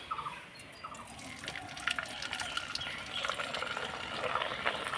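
Dried, colourful leaf-design papad puffs up in hot oil with a dense, steady crackling sizzle, close and continuous for the whole stretch.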